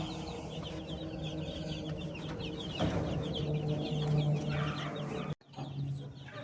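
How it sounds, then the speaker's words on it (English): A flock of chickens clucks and murmurs continuously close by in the morning, with overlapping calls and rustling, and a brief dropout near the end. "Check out our chickens this morning."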